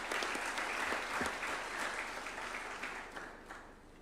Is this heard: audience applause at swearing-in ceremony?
yes